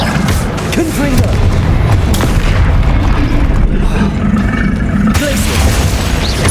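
The Confringo blast curse in Hogwarts Legacy: loud, continuous booming explosions and rumbling combat effects packed densely together, with a voice shouting spell names over the din.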